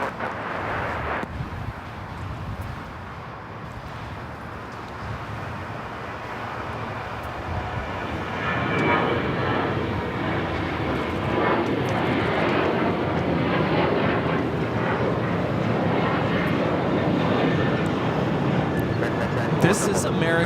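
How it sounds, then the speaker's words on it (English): American Airlines Boeing 737-800 jet taking off from runway 25 right at Los Angeles LAX, a broad steady engine roar that swells louder about midway and holds as the plane accelerates, with people talking underneath. "This is American Airlines Flight 1994 taking off to Phoenix on the 737-800"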